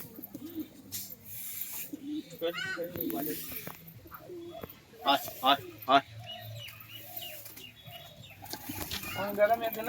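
Andhra high-flyer pigeons coo softly with bursts of wing flapping nearby, while a person repeatedly calls out to the birds over them.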